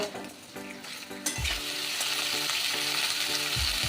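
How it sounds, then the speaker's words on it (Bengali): Pumpkin and pointed gourd pieces fry in a pan for a shukto, a loud steady sizzle rising after a second with intermittent stirring scrapes and clatters, no voices. "এবার দিয়ে দেব কিছু মিষ্টি কুমড়ো আর পটল এটাও অল্প ভেজে নেব"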